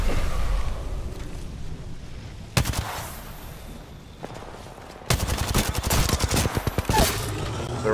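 Gunfire in the console game Apex Legends: a single sharp shot, then a rapid sustained volley of automatic fire, loud and close against background game noise.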